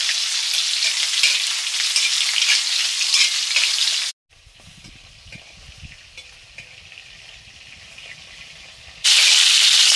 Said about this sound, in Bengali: এবার নিম পুরগুলো প্রথমে শুকনো কড়াতে একটু ভেজে নিয়ে নিচ্ছি।